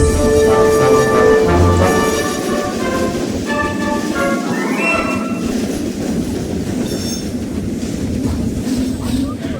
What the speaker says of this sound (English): And off he went with the two coaches, Annie and Caravan